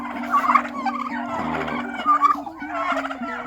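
Turkeys gobble in a flock, several overlapping warbling calls and rapid gobbles heard close and clear with no talking.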